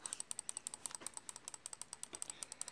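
A computer mouse spam clicked in rapid, fairly even succession, a long run of sharp, close, quiet clicks with no talk.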